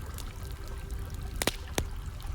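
Hot spring water laps and trickles as feet slip into the bath, a soft steady wash with two brief splashy pours close by.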